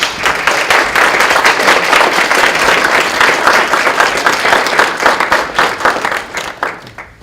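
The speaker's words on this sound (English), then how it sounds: "Let's give them a round of applause." Applause for cadets at a merchant mariners' pride dinner: a large room of people clapping steadily and loudly, dense and even for several seconds before thinning and tapering off at the end.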